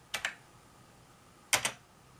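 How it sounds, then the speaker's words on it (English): Two quick pairs of keyboard key clicks, separated by a pause of over a second, soft and close in a quiet room. "I won't show me typing this."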